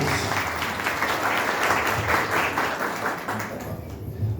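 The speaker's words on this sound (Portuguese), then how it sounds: "uma salva de palmas para Paulo de Tarso" Sustained applause from a seminar audience greeting Paulo de Tarso as he is welcomed on stage, a dense steady wash of many hands clapping that holds strong for several seconds before thinning slightly at the end.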